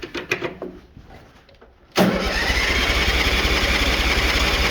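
A Bolens HT-23 garden tractor engine, choke on, is heard with a few clattering sounds, then it catches abruptly and settles into a loud, steady running drone close by.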